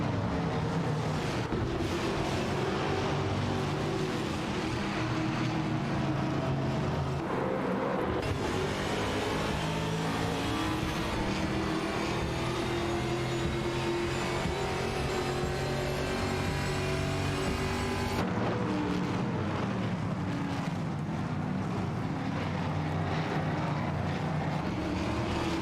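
Chevrolet Camaro and Ford Mustang race cars roar through a racing video game, a continuous loud engine drone with shifting pitch and a sudden change in tone partway through, steady for the whole stretch with no talk.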